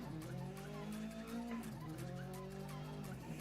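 A rally car in the Dirt racing video game pulls away, its engine droning and rising in pitch with gear changes while tyres hiss and skid on loose ground, loud and continuous with no talk.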